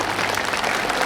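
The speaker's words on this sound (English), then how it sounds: "Ladies and gentlemen, give me a round of applause," Audience applause for Kieran O'Malley, a British volleyball team athlete, at a Sheffield athletes' send-off: steady, dense clapping filling the whole moment at an even loudness, with no voices standing out.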